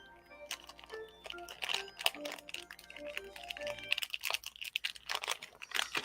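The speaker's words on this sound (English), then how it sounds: "who's munching the food?" Someone munches fruit snacks up close, with crinkly chewing and rustling crunches in an irregular stream, fairly quiet.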